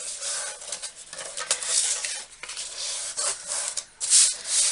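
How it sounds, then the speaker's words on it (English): Paper pieces for a mini album binding are folded and creased by hand, giving close, irregular rubbing and crinkling swishes in short bursts. "Then what you would do, you would fold these pieces."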